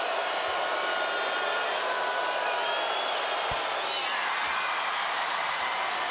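Steady roar of a basketball arena crowd during free throws late in a tight Heat vs Knicks game, a dense, loud wash of massed voices and whoops that holds throughout with a couple of low thumps.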